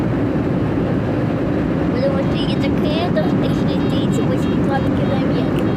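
Constant low roar of an airliner cabin in flight at altitude, with people talking over the engine drone.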